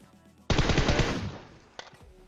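Automatic rifle fire in the mobile battle royale game PUBG Mobile, a single rapid burst of close, loud shots lasting about a second, followed by one more short crack after a pause.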